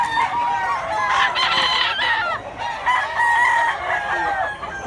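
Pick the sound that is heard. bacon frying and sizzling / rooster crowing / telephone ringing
rooster crowing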